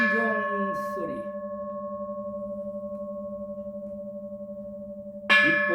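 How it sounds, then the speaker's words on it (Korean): A Buddhist temple bell rings with a long, steady resonant hum that slowly pulses as it fades, after an opening strike, and is followed by another sharp strike near the end. "범종소리"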